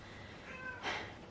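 A house cat gives a short meow, close and fairly clear, rising briefly before fading, alone without talk.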